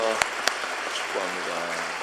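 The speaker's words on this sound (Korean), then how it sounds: "우리 따뜻한 우리 환영과 격려의 박수 한번 보내주시기 바랍니다." A church congregation claps warmly to welcome fasting members during a Sunday service, a dense, steady patter of many hands close by, with a couple of sharper claps standing out near the start.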